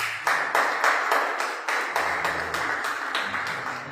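A church congregation claps in unison, a steady run of about a dozen rhythmic, evenly spaced claps from many hands, moderately loud and close, with no talking over it.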